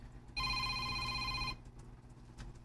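An incoming call rings on a telephone as a steady electronic bell-like tone lasting about a second, loud and close, then breaks off into a quiet room.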